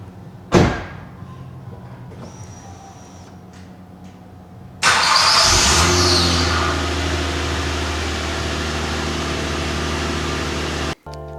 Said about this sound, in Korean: 시동 소리 한번 들어보시죠.